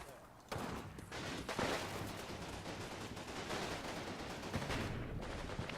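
Infantry combat gunfire in Combat Mission Market Garden, with dense, continuous rifle and machine-gun fire crackling at moderate distance and swelling as troops come under fire.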